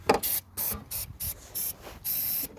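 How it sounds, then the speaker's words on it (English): Aerosol can of parts cleaner sprayed onto a Honda CR-V diesel engine part during a fuel filter change, a series of six or seven short sharp hissing bursts, close up, the last one longer; no talking. "I'm actually going to put a bit of rag just in front of this hole here, the inlet, and I'm just going to spray a bit of"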